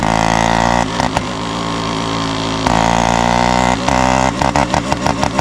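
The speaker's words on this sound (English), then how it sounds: "We're using engine braking here." A motorcycle engine drones under engine braking on a steep Himalayan mountain descent in Nepal, a loud steady rumble with a few sharp dips and choppy interruptions toward the end.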